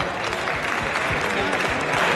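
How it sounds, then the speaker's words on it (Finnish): Audience applause at a Fitness Expo 2024 repetition bench press championship after a lift; continuous crowd clapping fills the hall, loud and dense, with some voices mixed in. "kuten isot aplodit Arille"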